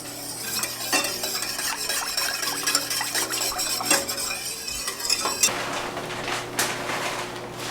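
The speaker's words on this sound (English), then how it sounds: "And just whisk this together." A whisk beats honey and vegetable oil together in a bowl, making rapid, continuous clinking and scraping close by before the rhythm slows near the end.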